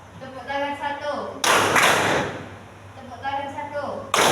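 Two loud, sharp bursts of group clapping from participants in a classroom ice-breaking game, a few seconds apart, with a leader calling out between them.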